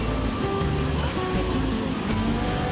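Rushing water at Kempty Falls, a natural waterfall near Mussoorie, makes a loud, steady broadband roar that holds without pause, with a faint low hum underneath and no voices.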